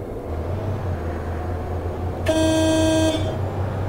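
A bus horn in the OMSI 2 bus simulator game, on a MAN bus on Vienna route 23A, blares one steady honk of nearly a second over a continuous low engine drone.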